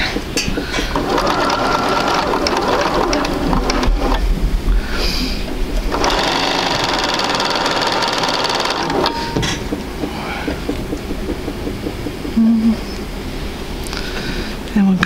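Sewing machine stitching sampler quilt pieces together, a continuous close rapid whir with brief changes in speed and a few small clicks.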